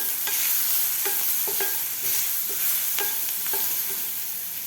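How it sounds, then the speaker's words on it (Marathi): A paste of garlic, green chili and coriander frying in a pan for a pumpkin bhaji gives a continuous close sizzle, broken by repeated light taps and scrapes of the spatula. "घालायचं आपण लसूण मिरची आणि कोथिंबीरचं वाटण बनवून घेतलेलं घालायचं आपल्याला हे सुद्धा आपल्याला एक मिनिटभर व्यवस्थित फ्राय करायचं आहे वाटण"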